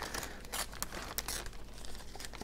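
Laminate covering being trimmed off a foam spec wing, with steady close crinkling and tearing bursts of the film throughout, no talk.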